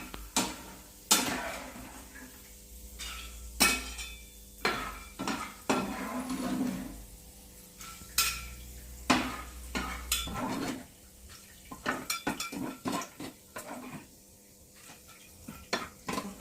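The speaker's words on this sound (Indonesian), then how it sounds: "Kita akan angkat kacangnya supaya nggak gosong." Fried peanuts are scooped out of hot oil in a pan, with repeated sharp metallic scrapes and clinks of a utensil over a soft sizzle. The irregular strokes come close and clear.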